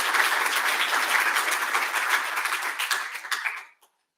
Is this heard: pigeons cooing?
no